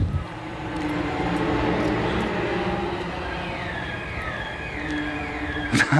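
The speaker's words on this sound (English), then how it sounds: "It's a motorbike, as you can hear, but it's one of these that underage boys ride, and they haven't got silencers." A small motorbike without a silencer rides past on a Liverpool street in Toxteth at night, its engine buzzing and rising in pitch at a moderate distance before a sharp knock near the end.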